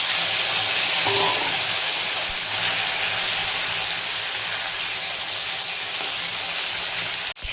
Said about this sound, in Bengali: চালতাটা দিয়ে আমি ভালোভাবে ভেজে নিয়েছি।